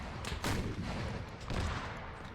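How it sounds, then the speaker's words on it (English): Cannons fire back and forth in an Arma 3 War of 1812 battle, with two heavy booming volleys about a second apart rolling over distant crackling gunfire. "Now you're hearing cannons firing back and forth."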